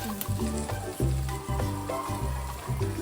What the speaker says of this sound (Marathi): मसाले आता छान असे परतून घेऊया आपण